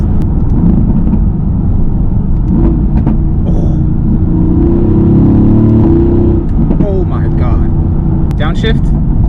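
A Mercedes-AMG GT S on winter tires revs as it downshifts, engine rumble swelling and dropping under close, excited talk inside the car.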